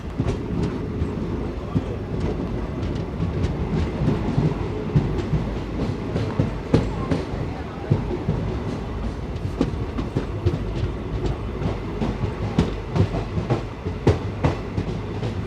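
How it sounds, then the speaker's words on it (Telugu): The Narasapur–Hubli Amaravathi Express, on its inaugural run, rolls into platform 2 at Palakollu station with a steady rumble and repeated clickety-clack of wheels over rail joints, heard from inside the train and continuing without a pause. "ప్లాట్ఫామ్ నెంబర్ 2కి అయితే వెళ్తుంది మన ట్రైన్."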